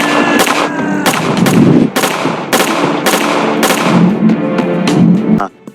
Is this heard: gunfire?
yes